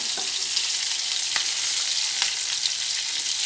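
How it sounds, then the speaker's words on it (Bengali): Garlic, onion and green chili fry in a pan with a steady, close sizzle and faint crackles, a continuous hiss with no voices. "রসুন কেটে রেখেছি সেটাও দিয়ে দিলাম রসুন পেঁয়াজটাও আমি ভেজে নেব"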